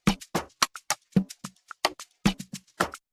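Drum loop taken from a sample pack in FL Studio for a guitar Afro-style beat: punchy kicks and crisp snare and hat hits in a steady, bouncing pattern, clean and upfront with no voices.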